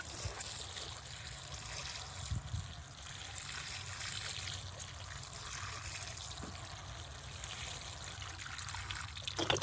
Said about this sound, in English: Now all you got to do is water them in.